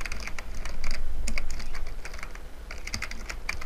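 Rapid clicking of keys on a computer keyboard as an email address is typed, a steady close run of light taps with short pauses and no talking.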